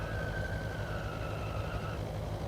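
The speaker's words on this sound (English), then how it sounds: "Ah, it's the brakes." Wheel brakes of a Cessna 172 in the X-Plane 11 flight simulator give a steady, fairly loud high-pitched squeal for about two seconds over a constant low engine rumble.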